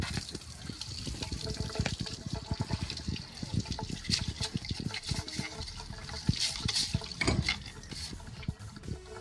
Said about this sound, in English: clean the filter with a brush under running water